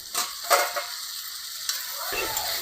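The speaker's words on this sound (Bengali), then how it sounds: "এবারে পুঁই শাকটাকে ভালোভাবে মশলার সাথে কষিয়ে নেব" Malabar spinach being stir-fried with spices in a pan for a village-style crab dish: a steady close sizzle broken by a few sharp spatula scrapes and stirs, with no talking.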